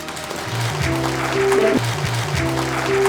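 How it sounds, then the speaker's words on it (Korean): Hall audience applauding the agricultural technology director at an agricultural research results sharing event in Gyeongbuk, steady clapping rising slightly over a few seconds with music tones playing beneath. "농업기술원장님 박수 한번 치면서 하겠습니다"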